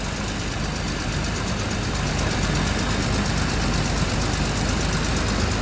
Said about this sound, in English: the engine note change is starting to go down a bit